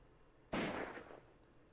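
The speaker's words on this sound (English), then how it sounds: "The sound of a gunshot rang out" A single gunshot in the video game London Detective Mysteria, a sudden loud burst that decays over about half a second against a quiet background.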